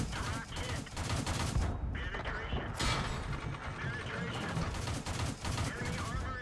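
Tank guns fire during a World of Tanks battle featuring a German Pz II J light tank. Dense bursts of gunfire and mechanical clatter continue throughout, with people talking over the noise.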